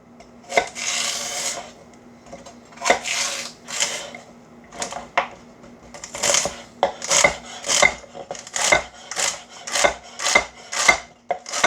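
A knife splits a stalk of celery lengthwise on a cutting board for shrimp étouffée, giving a series of crisp, rasping cuts and chops that start sparse and quicken into a steady rhythm, close and alone.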